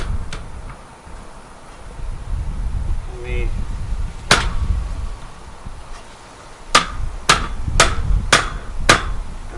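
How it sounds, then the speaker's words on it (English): Sharp hammer strikes ring out as wheel caps are tapped onto a Weber Original Kettle grill, one single blow and then a quick series of five taps, close and loud over low background rumble. "they want you to use a hammer"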